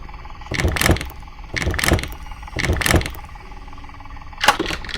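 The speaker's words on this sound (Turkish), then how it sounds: "Allah açtı kapıyı." A mechanical door slides open in the horror game Granny, with repeated grinding whooshes followed by a sharp clunk near the end.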